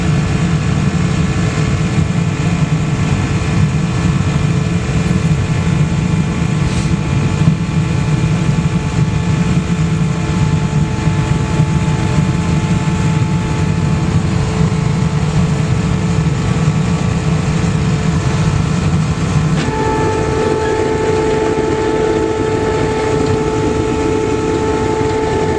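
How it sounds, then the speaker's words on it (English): Steady, loud roar of a blower feeding a hot waste oil foundry furnace used for melting aluminum, a constant whooshing rush that holds for the whole stretch, with a shift in tone near the end. "it's a fairly simple matter to just turn on the blower"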